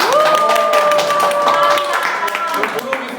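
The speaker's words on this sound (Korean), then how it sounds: "큰 박수 부탁드립니다" Clapping from a tour group in Daeheung-dong in Daejeon's old downtown, a steady patter under a prominent sustained voice and other talk.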